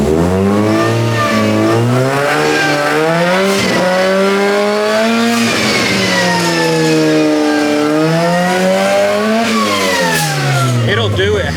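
A cheaply supercharged Mazda Miata engine being revved hard in repeated throttle stabs, the loud pitch climbing and falling in sweeping waves, close and continuous.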